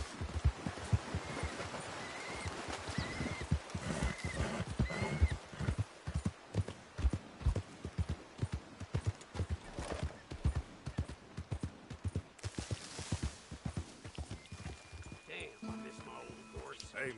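A horse's hooves clip-clop in steady rhythmic beats across open ground in Red Dead Redemption 2, close and clear, with an occasional whinny and stretches of game ambience between strides.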